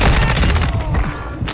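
Dense gunfire rattles through a Call of Duty match as loud, overlapping bursts and booms fill the whole moment without a break.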